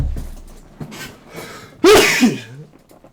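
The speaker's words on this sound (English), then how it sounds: "excuse me, sneeze sometimes" A single loud, close sneeze bursts out abruptly after a quiet breathy lead-in, trailing off quickly.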